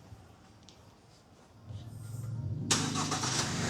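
A 2021 Honda Civic 1.8 E starts by remote key: quiet at first, then the engine cranks and catches around the midpoint, settling into a louder, steady idle with a bright broadband hiss, heard close and alone.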